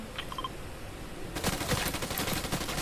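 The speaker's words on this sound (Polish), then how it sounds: "A nie, no jakiś typ do mnie strzela." In Fortnite, rapid gunfire from another player breaks out partway through as a dense, steady rattle of shots with no pauses, continuing to the end after a few small earlier chirps.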